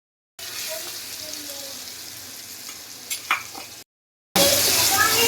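Cumin, asafoetida and turmeric sizzle in hot oil for a garlic chutney tempering, a steady close hiss broken by a couple of stirring clinks. After a brief silent cut, a much louder burst of sizzling follows.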